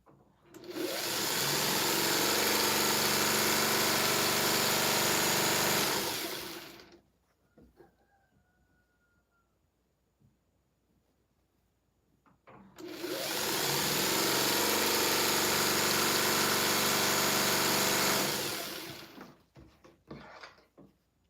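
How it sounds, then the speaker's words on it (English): A machine runs at a steady whirring hum for several seconds, stops for a quiet gap with faint handling noises, then runs again at length. "Well, maybe my sound of my sewing machine will make you fall asleep, Lynn."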